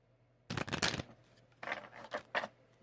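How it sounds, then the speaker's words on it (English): Tarot cards being shuffled close up, a quick riffle followed by a few shorter papery bursts, quiet and without speech. "Give me one moment here while I shuffle my cards."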